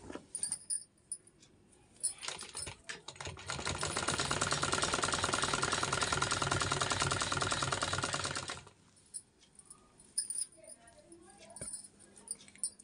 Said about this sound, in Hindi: बस इसी तरीके से हमको इस पर सीधी सिलाई लगा लेना है।